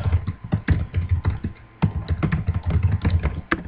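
Fast, continuous typing on a computer keyboard, close and crisp, with rapid uneven clicks and a short pause midway, no voices.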